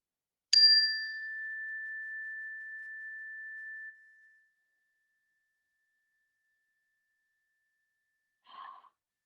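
A single bell struck once at the close of a yoga class rings out clearly with a long, pure sustained tone that slowly fades over a few seconds, followed by silence and a faint soft sound near the end.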